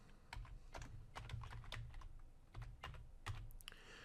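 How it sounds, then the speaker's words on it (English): A computer keyboard clatters with quick, uneven keystrokes, close and quiet, in irregular bursts as a username is entered on a Windows Server login screen. "I'm going to start typing administrator in the username."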